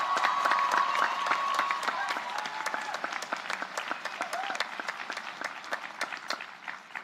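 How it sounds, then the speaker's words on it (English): Graduates and guests applauding at the Linfield University 2022 commencement, a broad crowd of clapping that starts dense and gradually thins into scattered, distinct claps, with some voices and cheers mixed in. "Please give yourselves a round of applause."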